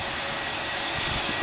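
Aircraft jet engines run at Manchester Airport as a steady, broad roar filling the whole short stretch, loud and unbroken, with no voices over it.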